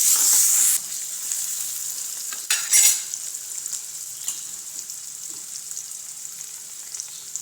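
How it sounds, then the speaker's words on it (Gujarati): Tomato and salt being stirred in a sizzling cooking pan for gunda flower khichdi, with a steady close frying hiss and scraping strokes of the spoon, briefly louder near the start and again around three seconds. "સ્વાદ પ્રમાણે મીઠું નાખી દઈશું અને આ બધું સરસ રીતે મિક્સ કરી લઈશું"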